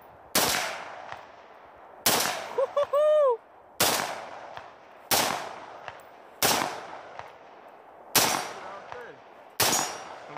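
A firearm fires six or seven sharp, loud shots at roughly even intervals outdoors, with one quick burst of several rounds in the middle and echoing tails after each blast.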